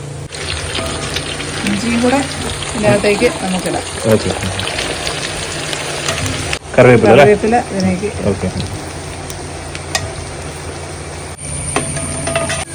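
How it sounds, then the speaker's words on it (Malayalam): Garlic, ginger and curry leaves frying in hot oil for a fish pickle, a steady rain-like sizzle that runs throughout while people talk over it. "നമ്മുടെ വെളുത്തുള്ളി ഇഞ്ചിയും കറിവേപ്പില എല്ലാം ശരിക്കും മൂത്തോ എല്ലാം മൂത്ത് റെഡി ആയിട്ടുണ്ട്"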